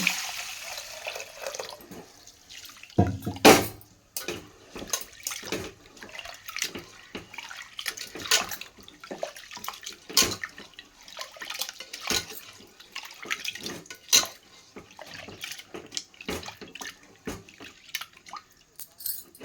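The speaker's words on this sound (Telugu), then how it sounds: "ఇదిగోండి ఒక్కసారి కడుగుతున్నా. ఇదిగోండి కడిగాను కదండి పప్పు." Water splashes and sloshes in bursts as red lentils are rinsed by hand, with intermittent dripping and pouring, close and irregular.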